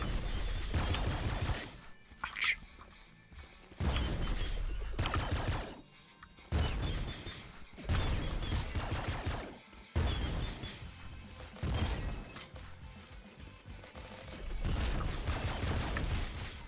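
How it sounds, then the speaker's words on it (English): Shotgun blasts in the video game Nuclear Throne, loud bursts of gunfire repeating in clusters with short gaps, crashing and smashing effects between shots. "This shotgun is fucking nuts."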